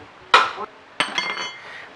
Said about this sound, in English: This is the bolt you need to remove first using a 17 mm spanner.